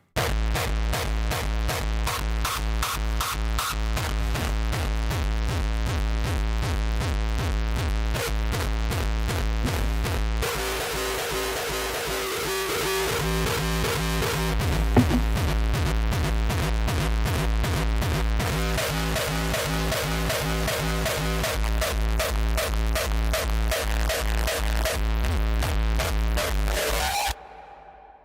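Edited, heavily distorted hard-style kick drums pounding in a continuous rapid pattern, loud and dense with gritty noisy texture, briefly shifting character midway before stopping abruptly.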